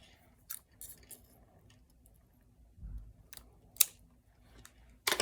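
Scissors cut through material in a few quiet, close snips separated by pauses, with small handling clicks in between and no talking.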